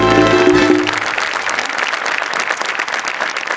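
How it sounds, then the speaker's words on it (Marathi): A studio audience at a Marathi comedy show breaks into loud, sustained applause that fills the whole clip, with a brief musical sting fading out at the start. "तुमच्यासाठी परत एकदा उभं राहून टाळ्या वाजवायच्या तुम्हाला."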